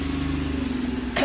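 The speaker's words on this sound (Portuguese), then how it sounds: "Tá, os carros." Traffic noise of cars near Coliseum station in Edmonton, with a steady engine hum and a brief louder burst at the end as a vehicle passes close.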